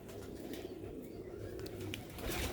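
Sialkoti rooftop pigeons coo softly and steadily nearby, low rolling coos repeating over faint background noise.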